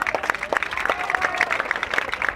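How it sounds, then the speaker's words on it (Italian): A comedy-show audience claps on cue, a short burst of uneven, moderately loud clapping close by with a faint tone and some voices underneath. "Fatelo quell'applauso!"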